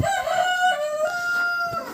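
A rooster at a backyard farm crows once in a long, drawn-out call, fairly close and clear against quiet surroundings.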